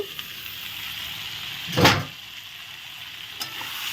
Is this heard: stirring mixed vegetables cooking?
yes